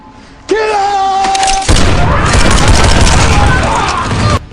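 Explosions and gunfire from an action film, starting with a tonal sting, then a sustained barrage of booms and rapid shots, loud and dense, with indistinct voices mixed in.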